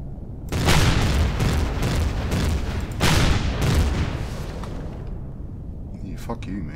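A gun turret blowing up in Empyrion, two heavy booming blasts with rumbling tails in close succession, fading into quieter game sounds.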